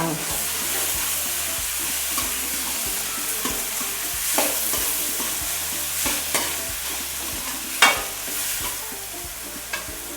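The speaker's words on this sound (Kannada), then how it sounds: "ಈರುಳ್ಳಿ ಮೆಣಸಿನ್ಕಾಯಿ ಹಾಕಿದ್ದೀನಿ ಟೊಮೊಟೊ ಹಾಕ್ತೀನಿ ಚೆನ್ನಾಗಿ ಎಣ್ಣೆಲೆಲ್ಲ ಫ್ರೈ ಆಗಬೇಕಾ" Onion, green chilli and tomato frying in oil in a pan, with steady close sizzling and repeated scraping and clinking as the mixture is stirred.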